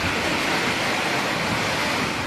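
Strong wind and heavy rain lash an outdoor night market in Davao City during a storm, a loud, steady broadband roar of gusts and downpour filling the whole moment without pause.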